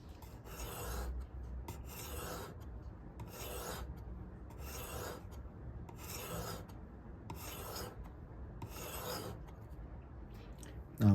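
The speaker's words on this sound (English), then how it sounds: "and then let's start sharpening" A knife blade rasps across a Bhumi diamond sharpening stone in about seven steady, even strokes, each a close, gritty scrape separated by short pauses.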